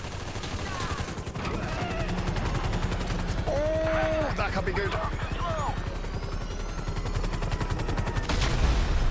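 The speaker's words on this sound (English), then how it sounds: "We ain't going nowhere with that chopper on us." Helicopter rotor chop in GTA V with bursts of gunfire and automatic fire during a story mission shootout, steady loud rhythmic thumping throughout, with a voice speaking briefly over it.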